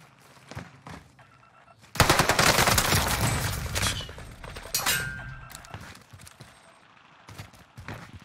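Gunfire on Rebirth Island in Call of Duty Vanguard Warzone: a loud, dense burst of shots that fades into scattered quieter cracks, after a quiet stretch with a few faint sounds.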